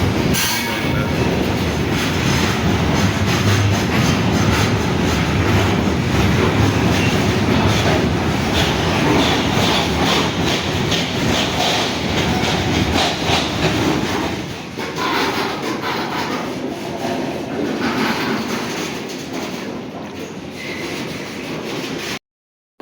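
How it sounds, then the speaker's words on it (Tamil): A heavy goods train rumbles past close by at Karaikal railway station, with a steady roar of wagons and wheel noise, occasional squeals and clacking, no voices. "கூட்ஸ் ட்ரெயின் வந்து நிக்குது."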